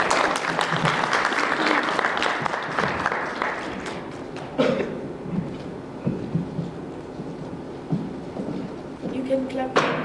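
Audience at a young African leadership summit applauds the President of the African Youth Union, a loud burst of clapping that thins out midway, followed by scattered claps, thumps and murmuring voices in the hall.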